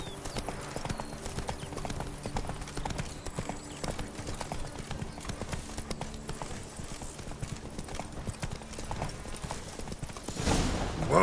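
Roach, a horse in The Witcher 3, walks along with steady, evenly spaced hoof clip-clops, moderately close and alone, before a swell of louder rustling noise near the end.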